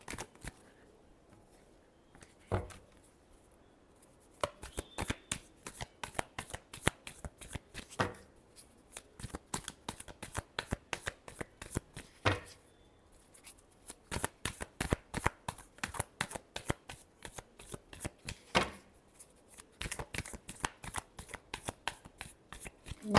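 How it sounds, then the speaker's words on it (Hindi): A deck of tarot cards being shuffled over and over, rapid crisp riffling flicks in repeated bursts separated by short pauses, close and fairly quiet. "Last shuffle."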